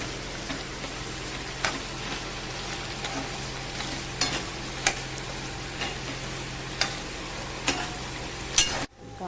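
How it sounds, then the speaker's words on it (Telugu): Tempering spices sizzling in hot oil for pulihora, a tamarind rice dish: a steady close fry with sharp pops and occasional clicks scattered through, no voices. "ఇప్పుడు పోపు బాగా వేగుతుంది."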